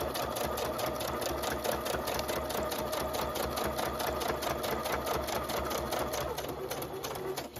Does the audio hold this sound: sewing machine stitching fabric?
yes